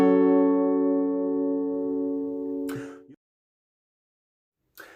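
A guitar sounds a single strummed minor chord, the 6 chord of the key, which rings out clearly and slowly decays before being muted with a short scrape; a faint touch of string noise follows after a silence.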